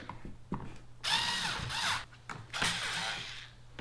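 A ratcheting tool or driver tightens mounting screws on a custom steering handle for a Native watercraft kayak, giving two short bursts of clicking mechanical whirring with quieter taps and handling noises around them, close and fairly faint.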